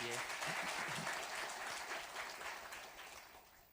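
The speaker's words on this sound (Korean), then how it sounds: "박수로 격려하겠습니다." A church congregation at Sunday worship claps for a visiting pastor and his wife, a soft, even round of applause that slowly fades, with a voice briefly heard near the start.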